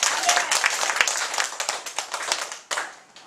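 A congregation claps together during a church service in a short, lively burst of overlapping hand claps that thin out and briefly dip near the end.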